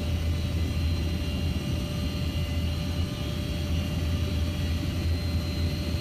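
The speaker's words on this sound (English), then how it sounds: "3 unknown helicopters about to land on this airfield" Three Mi-8 helicopters approaching to land at an airfield, heard as a steady, loud, droning engine and rotor rumble with a constant whine, continuous throughout without pauses.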